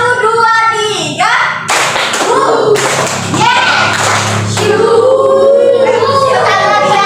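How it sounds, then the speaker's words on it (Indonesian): A school class claps together in a counted 1-2-3 pattern, making sharp grouped hand claps between loud stretches of children's voices and a teacher speaking. "Coba sekarang kita gabungin. Tepuk 1, 2, 3."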